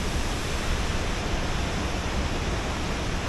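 High Force Waterfall, a 21-metre drop, roars continuously as a dense, loud, unbroken rush of falling water, close by and with no voices.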